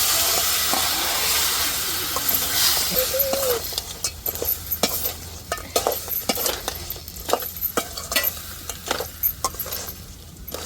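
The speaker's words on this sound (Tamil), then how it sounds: "இப்போ நண்டை சேர்த்துருவோம்." Crab tipped into a hot pan of fried brinjal, onion and chili for a tamarind crab fry sets off a strong steady sizzle, which fades into scattered clinks and scraping as it is stirred.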